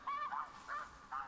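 Snow geese honk in The Hunter Classic hunting game: four short, nasal calls in an uneven rhythm, fairly near and clear against a quiet background.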